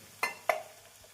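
Two short scrapes of stirring in a pan of potatoes and peas cooking over medium flame for a masala curry, each with a brief ring, quiet and spaced apart with no talking.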